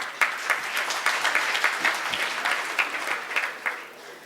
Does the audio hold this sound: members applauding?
yes